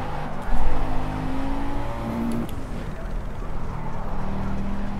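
Racing car engine in the video game Project CARS, a steady low drone with a brief louder surge near the start, then holding an even, moderate level throughout with no talk over it.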